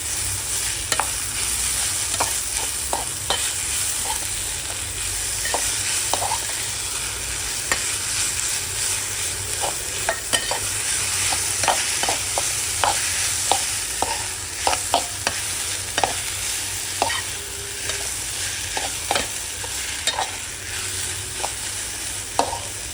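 Mashed potato being stirred into a spice masala frying in a pan for spicy potato thecha: a steady sizzle with repeated scraping spatula clicks throughout, close and fairly loud, with no talking.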